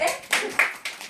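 A few people clapping at a business camp gathering in Shanghai, about four sparse claps spread over a second, fairly close and quiet.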